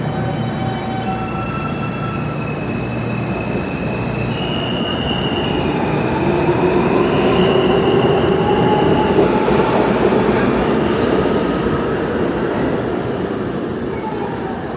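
An NYC subway F train, running express toward Coney Island, rumbles steadily with rail noise and occasional faint wheel squeal, loud and continuous throughout, with a faint voice briefly audible.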